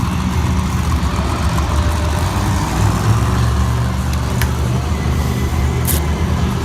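Monster truck engine at a 2017 Monster Jam arena event in Lincoln, Nebraska, the Nitro Menace truck, rumbling steadily with a loud, continuous low drone and arena ambience throughout.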